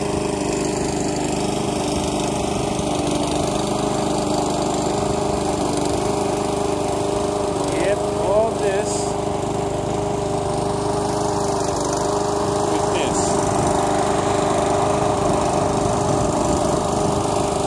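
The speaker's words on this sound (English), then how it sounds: "I'm mowing, you'll see what I'm doing. I'm mowing all this." A lawn mower drones steadily while cutting a home lawn, its constant engine hum loud and close throughout with slight load changes and no voices.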